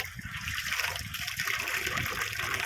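Irrigation water pours into a field plot as a continuous rushing gush and trickle, close by and fairly loud, holding steady from start to finish.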